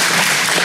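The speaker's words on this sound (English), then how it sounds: "Everybody clap." Audience at a town hall meeting applauding, a dense, steady wash of clapping that fills the whole short moment at close range without breaks.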